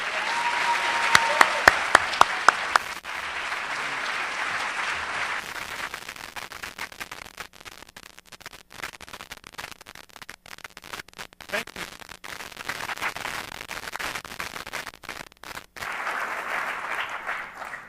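A Stanford University audience applauds to welcome Bill Gates, a steady wash of clapping that holds loud for most of the stretch, dips in the middle, then swells again near the end.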